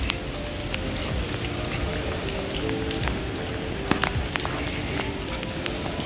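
Steady rain falling outdoors around a plaza in Baguio City, a dense close hiss of drops with scattered sharper patters and taps throughout.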